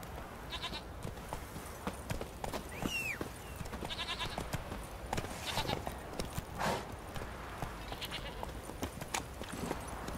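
Roach the horse trotting in Witcher 3, hooves clip-clopping in a steady rhythm through the whole stretch, with faint bleating livestock and ambient chirps around in the background.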